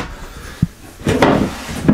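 A large drawer in a 2018 Keystone Cougar 24SAB travel trailer slides open, giving a short knock followed by a louder wooden rumble and clatter, then a final bump as it stops.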